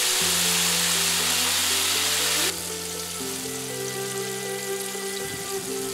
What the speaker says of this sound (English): Gently put it into the oil. Leave them brown for 5 minutes.